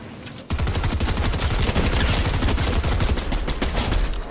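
A Mark Alpha assault rifle in Fortnite fires steady, loud rapid shots in a near-continuous stream, starting abruptly after a short pause.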